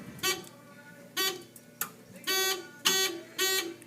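An Edwards ESA 2000 addressable fire alarm control panel sounds its alarm, a buzzy tone pulsing in short, evenly spaced bursts with brief silences between them, fairly close and alone.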